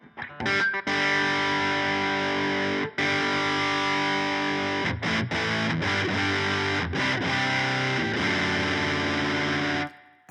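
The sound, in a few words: electric guitar through Fulltone OCD overdrive pedal alone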